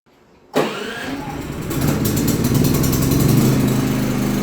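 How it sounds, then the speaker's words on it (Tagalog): A Philking PK4200ie2a generator starts on its own after a power cut, cranking abruptly out of near silence and settling into a steady, loud mid-pitched running hum close by. "So dapat mag-initiate ng starting yung ating generator."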